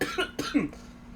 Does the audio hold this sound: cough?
yes